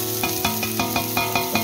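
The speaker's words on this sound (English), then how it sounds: "so we're just going to add our onions and garlic." Onions and garlic frying in hot olive oil, a loud close sizzle broken by regular, evenly spaced stirring scrapes about five times a second, no talking.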